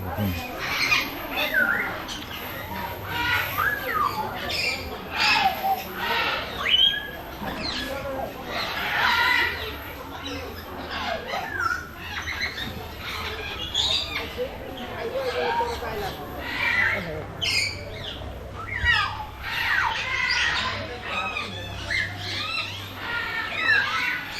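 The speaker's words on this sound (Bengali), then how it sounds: "বিভিন্ন প্রজাতির পাখির বিভিন্ন সুর আসলে" Several bird species call and squawk continuously at the Gazipur safari park in Bangladesh, with chirps and screeches layered over background chatter and a low hum; voices can be heard in the mix.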